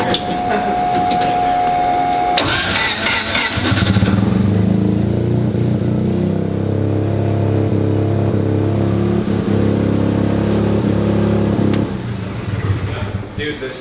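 A 650cc Mazda single-rotor engine cranks over with a whine, catches, and settles into a loud, steady, buzzy idle, with a constant hissing rush of air from the blow-off valve before fading at the end.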